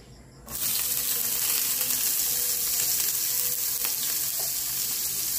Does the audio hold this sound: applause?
no